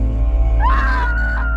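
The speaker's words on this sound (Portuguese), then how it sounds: "Que grito foi esse?" A high, wavering scream rises and holds from a scene in a Brazilian TV drama, heard over a low steady background hum.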